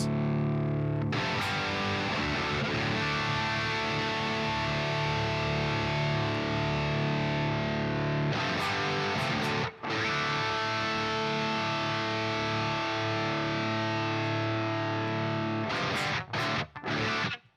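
Heavy distorted electric guitar chords through an amp simulator plugin ring out loud and sustained, with a brief break midway and choppy stabs near the end.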